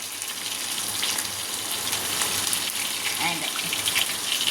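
Fish pieces frying in hot oil in a home kitchen for lunch, a steady broadband sizzle running evenly throughout at close range, with no talk over it.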